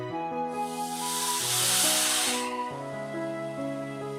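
Water sprinkled into roasting gram flour sets off a loud hiss of steam that swells and fades within about two seconds over a steady background tone.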